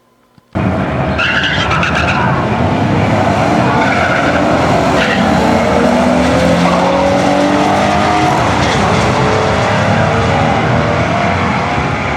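Ford Mustangs drag racing at Union Grove, Wisconsin: a loud, close burst of engine roar and squealing tires erupts suddenly and continues steadily with rising and falling engine pitch.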